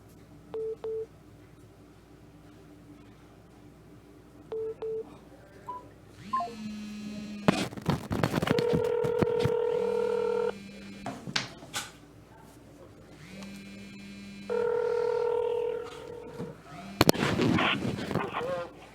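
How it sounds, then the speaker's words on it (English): Telephone keypad tones ring out during a county commission meeting as someone dials a call on a speakerphone, several short beeps spread across the clip among room clatter and a few bangs. "dial him right here"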